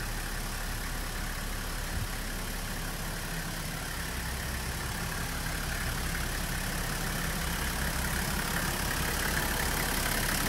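A Hino Liesse II bus (model KK-HZB50) with a 1HZ six-cylinder non-turbo diesel engine idles at close range in a steady, loud, low rumble with an even mechanical chatter throughout and no speech.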